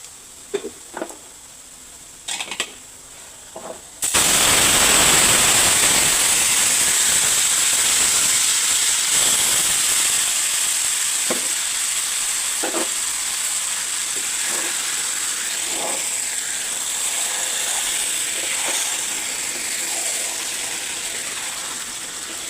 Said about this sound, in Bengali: পেঁয়াজ রসুনগুলো বাদামি হয়ে গেছে এখন এর মধ্যে আমি কাঁঠালের তরকারিটা নামিয়ে দেবো